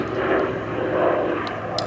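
A Hawker Sea Fury warbird, a non-navalised example, flies a display at an airshow, its piston engine giving a loud, steady droning roar throughout with no voices.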